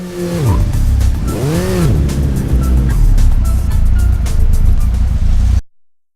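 Car driving in the video game Headhunter, its engine note rising and falling in sweeping pitch arcs with tire squeal, loud and continuous for over five seconds before cutting off abruptly.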